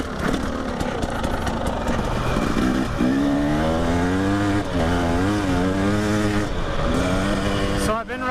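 A 2017 Husqvarna TX 300 dirt bike ridden fast on trails makes a loud, continuous two-stroke engine drone. The pitch rises and wavers as it revs, and brief wind rush comes near the end.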